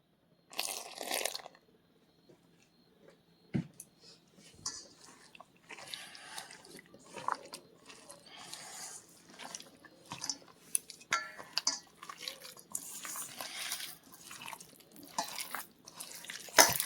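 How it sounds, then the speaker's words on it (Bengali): Spiced chicken being mixed by hand with a little water and egg for pakoras, giving soft wet squelching and sticky smacking sounds that keep going in an uneven rhythm, close up, with no talking. "অল্প একটু জল দিয়ে আমি ভালো করে মাখতে থাকব।"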